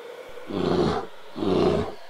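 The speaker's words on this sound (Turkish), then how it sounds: "Kutup ayısı." A polar bear gives two deep, throaty roars, each lasting about half a second with a short gap between, loud and close against a quiet background.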